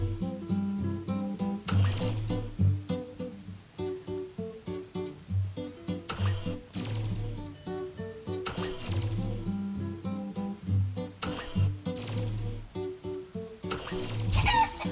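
Cartoon chickens cluck in the Dexter's Laboratory game Clone A Doodle Doo, layered with steady, bouncy game music throughout.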